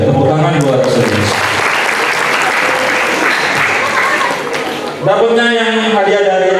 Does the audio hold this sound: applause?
yes